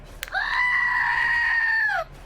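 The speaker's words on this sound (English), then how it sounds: "The Screaming Goat." A Screaming Goat novelty toy lets out one loud, sustained bleating scream lasting under two seconds, standing alone with no talk around it.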